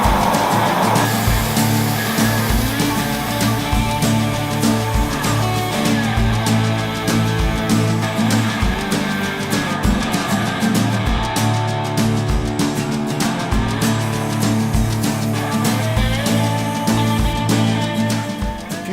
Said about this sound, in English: Let's physically get in there here with a hose and clean it out.